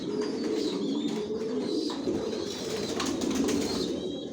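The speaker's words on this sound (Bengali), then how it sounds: "কবুতর পালি। পুরো লফটাই আপনাদেরকে আগে দেখাই" Racing pigeons cooing inside a crowded loft, continuous low soft coos from many birds with occasional chirps and faint wing sounds, steady and close, no talking.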